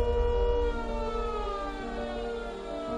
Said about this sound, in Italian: La sentite questa sirena?